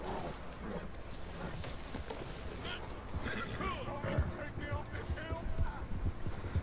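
Horse hooves clop and gallop steadily in the Red Dead Online video game, close and rhythmic, under people talking.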